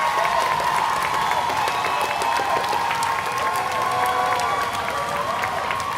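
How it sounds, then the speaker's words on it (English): Sustained audience applause and cheering fill a school graduation ceremony, a dense, steady wash of many hands clapping at constant loudness throughout, with faint crowd voices mixed in. "Please, one more time, clap for these babies."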